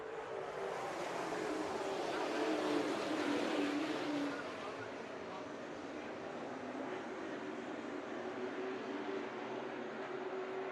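Pro Late Model stock cars race at All American Speedway, their engines a steady, distant roar that swells briefly and then settles into a constant drone, with no talk heard.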